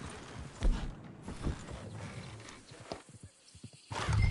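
Horse in the open-world western game Red Dead Redemption 2, with clip-clopping hooves and a brief whinny among other game sounds, fairly close, with a short quiet gap near the end.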